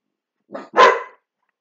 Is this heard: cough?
no